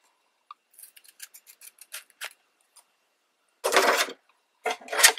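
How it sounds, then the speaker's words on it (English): Scissors snip origami paper in a run of short, quiet, close cuts, followed by a few louder bursts of paper rustling and handling. "Well, I guess I'm going to be using my scissors."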